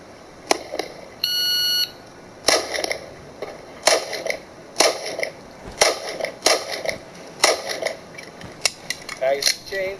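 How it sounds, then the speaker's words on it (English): A shot timer beep sounds once, then a string of sharp gunshots rings off steel circle targets in an uneven rapid rhythm, with metallic pings trailing each shot. "on the beep, I'll shoot every single circle 1 time"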